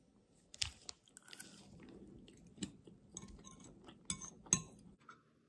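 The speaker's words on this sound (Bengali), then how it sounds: "এখন তো স্ন্যাক্স খাচ্ছি।" Someone eats a banana pitha snack sweetened with jaggery, with quiet close chewing and crunchy bites mixed with scattered sharp clinks of glass or dishes.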